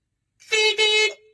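A voice imitates a car horn: a single sustained honk with a brief dip in the middle, close and loud, lasting about a second before trailing off.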